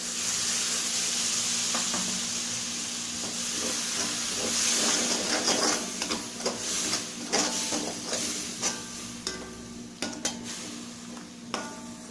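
Tomato paste fries in hot oil with soya keema masala, giving a continuous hissing sizzle while a spoon scrapes and stirs the pan in irregular clinks and scrapes, louder and busier in the second half.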